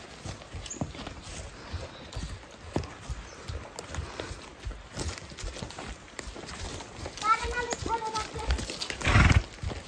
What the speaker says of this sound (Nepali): आवश्यक सामानहरू चाहिँ मान्छे लगायत घोडाले पनि ढुवानी गर्ने गरिन्छ मयुङ डाँडामा